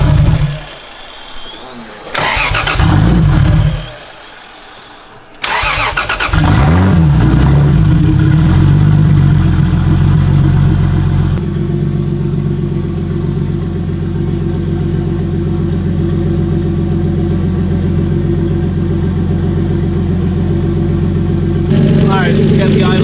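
A car engine cranks and fires, with a couple of revs before it settles into a loud, steady idle that continues close by for most of the clip, and a voice speaks near the start.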